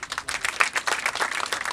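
A crowd claps at a community ceremony in Kinyinya, Rwanda, with dense, continuous applause from many hands, fairly close and steady with no talking.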